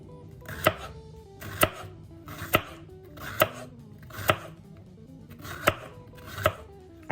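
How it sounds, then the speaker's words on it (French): A knife thinly slices a green bell pepper for salade niçoise, giving about eight crisp, evenly spaced cuts against a board, close up with no talk. "Je coupe également le poivron vert en tranches fines."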